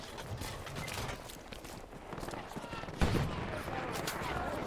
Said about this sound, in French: Mets-leur un coup de canon.